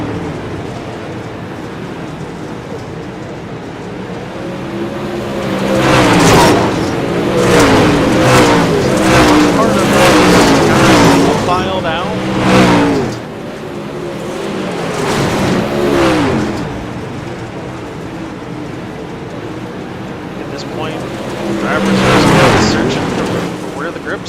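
Super late model race cars thunder around the Lincoln track in a winter racing league event, engines swelling loudly as a pack passes close by, then fading and building again with rising revs.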